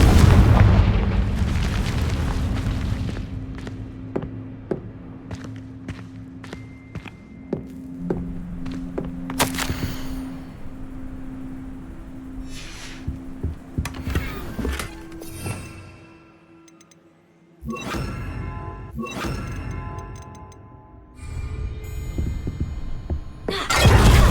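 Confringo explosive spell blasts in the Hogwarts Legacy game, with booming impacts and sharp cracks over a sustained low rumble, loud and repeated, followed by a brief lull and further heavy hits.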